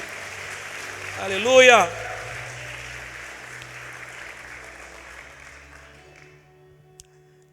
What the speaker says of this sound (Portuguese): levanta sua mão e aplauda Jesus bem forte